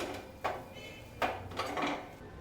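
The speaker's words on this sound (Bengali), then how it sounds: "চিনিটা দিয়ে একটু নেড়ে নেব।" Sugar is stirred into mashed taro paste with coconut, green chilli and mustard in a pan, giving three quiet scraping strokes of a spoon against the metal.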